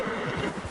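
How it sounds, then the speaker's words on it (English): Horse whinnying in the open-world western game Red Dead Redemption, a short close neigh blended with hoof clip-clop and outdoor game ambience. "You got a problem with that horse?"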